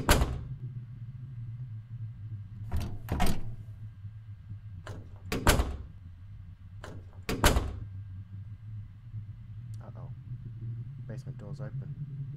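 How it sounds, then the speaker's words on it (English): A door in the Crooked Man horror video game opens with several sharp clunks and thuds spread over a low rumbling ambient drone, ending in a soft rattling creak. "Basement door's open."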